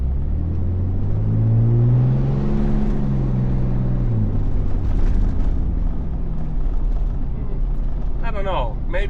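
A Ram 6.7 Cummins diesel truck fitted with a Banks Monster intake and grid heater delete, test-driven: a deep, rumbling engine builds and swells, then settles into a steady road drone, with a few faint high chirps near the end.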